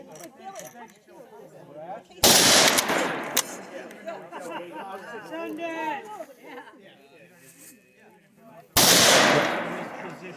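Two loud, sharp gunshots ring out at an indoor or outdoor shooting session in Henniker, New Hampshire, several seconds apart, with people chatting in between the blasts.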